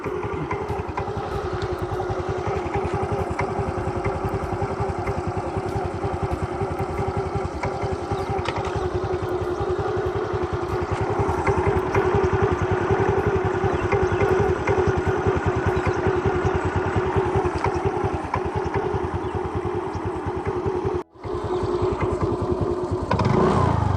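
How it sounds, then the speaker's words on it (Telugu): TVS Jupiter scooter engine running steadily at idle, a close, even putter that holds for the whole stretch with a brief dropout near the end. "ఈ వెహికల్ ఇంజన్ సౌండ్ ఒకసారి చెక్ చేద్దాం."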